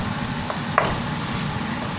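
Longganisa sausage sizzles in a pan, a steady low frying hiss with a couple of brief clicks of stirring near the start.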